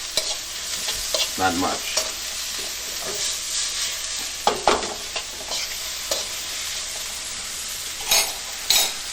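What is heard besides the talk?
vegetables with onion being sautéed and stirred in a pan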